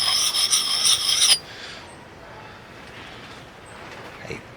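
A blade is rubbed across a sharpening stone to work the burr, with about a second of quick, loud rasping strokes that then stop, leaving quiet room noise and a faint scrape near the end.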